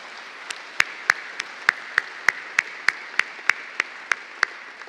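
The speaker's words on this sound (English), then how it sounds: "let's give them a round of applause to recognize their support" Graduation convocation audience applauds in a steady, even wash of clapping, with a few sharp, distinct claps standing out at a regular pace throughout.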